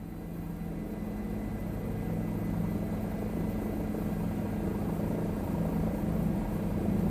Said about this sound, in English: listen for the blade slap that comes into the sound set ever so often.